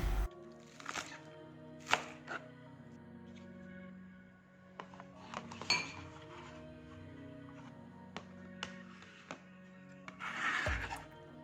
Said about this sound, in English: Mince finely the green onion.